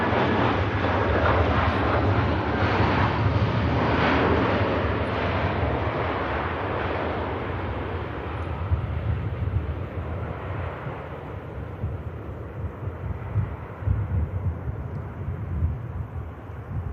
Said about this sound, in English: that was an incredible takeoff from the Hainan A350 for Beijing there